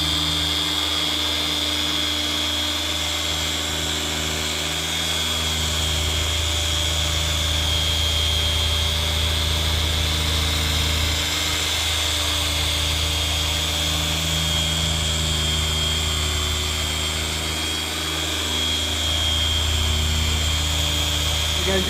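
A G220 polishing machine runs steadily throughout, giving a loud, continuous motor whine and hum with a low rumble that swells and eases slightly as the head moves.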